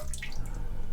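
Water sprays from a Tushy Classic bidet nozzle on a toilet, a brief close hissing patter with sharp splashes.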